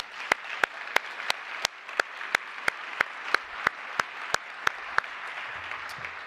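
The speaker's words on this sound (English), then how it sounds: "let's give all of them a big round of applause" A conference closing brings a soft bed of audience applause, with one nearby pair of hands clapping sharply and evenly about three times a second above it.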